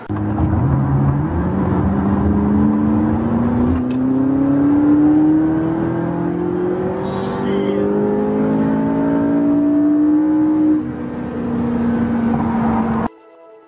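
A brand-new McLaren exotic sports car with about 100 miles on it drives and accelerates, its engine note climbing steadily in pitch across several gear pulls, loud and close, then cutting off abruptly near the end.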